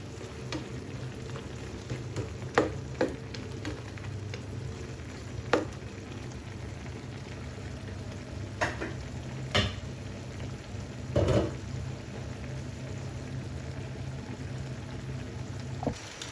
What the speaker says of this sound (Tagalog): Pakukuluan ko lang yan hanggang sa lumambot-lambot.